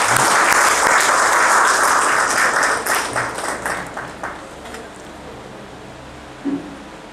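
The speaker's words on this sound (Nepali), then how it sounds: "यसको लागि परमेश्वरलाई हामीले ताली बजाएर धन्यवाद भन्न पाउँ" A church congregation applauds loudly, a full crowd of clapping that holds strong for a few seconds, then thins into scattered claps and fades, with a brief thump near the end.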